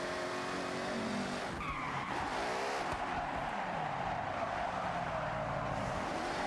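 Tires of a 2008 BMW Z4 M Coupe squeal and skid during wheel spin in the Forza Horizon racing game, a loud continuous screech with engine roar running steadily throughout, no talking.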